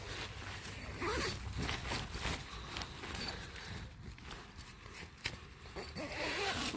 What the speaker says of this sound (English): I'm going to zip this up so I don't get any more bugs in here.